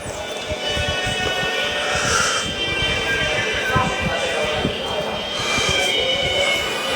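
Inside a moving passenger train, a continuous rumble of wheels on rails rolls on with rhythmic knocks, while people talk nearby.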